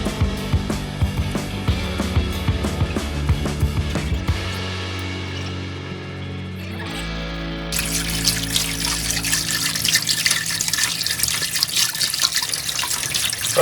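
Hot water gushing steadily from a tap after a home heating system has been refilled, running continuously, then changing to a brighter, louder splashing stream partway through.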